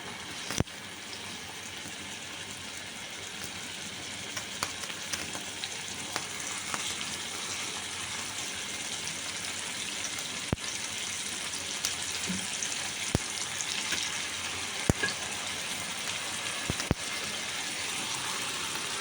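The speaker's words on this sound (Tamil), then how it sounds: "மீன் வறுவட்டும், ரொம்ப ட்ரையாக வறுக்க வேணாம், ஒரு மீடியமாக வறுத்துக்கலாம்." Fish shallow-frying in a pan, a steady dense sizzle of hot oil with occasional sharp pops and the light scrape of a utensil, close and continuous with no talking.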